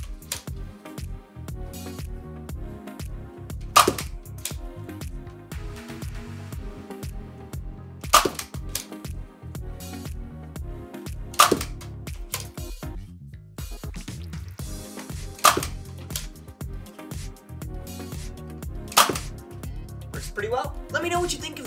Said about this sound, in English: Now, let's see it fire. All right, we've got a few chili darts. Let's give it a firing demonstration.